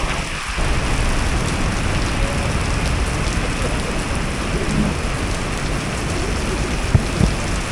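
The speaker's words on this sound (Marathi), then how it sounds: "आणि बघा पाऊस बघा कसला खतरनाक येतोय" Heavy rain pours down at a small beach cafe in rural Vietnam, a loud, dense and constant hiss of drops drumming on surfaces, with a couple of faint knocks near the end and no talking.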